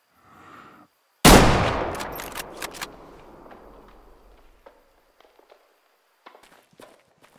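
A single sharp, loud rifle shot at a warthog in the hunting game Way of the Hunter rings out and decays into a long echoing tail, followed by faint scattered clicks and rustles.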